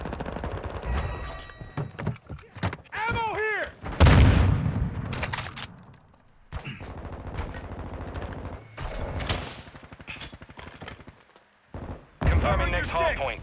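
Semtex grenade blasts and bursts of automatic gunfire in the game Call of Duty: Modern Warfare II, a heavy boom followed by rapid rattling shots, with radio-style voice callouts in between.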